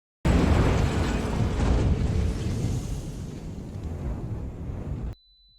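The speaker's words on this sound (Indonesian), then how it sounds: "tiba-tiba saja ada sebuah ledakan bom tepat di depan toko pakaian" A sudden loud bomb blast in front of a clothing store erupts and rolls into a long rumbling roar that slowly fades, then cuts off abruptly.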